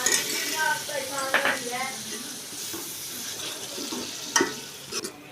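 Chopped tomatoes frying in a pan with golden onions, ginger and garlic, a steady sizzle with intermittent stirring scrapes and clinks while a person talks over it.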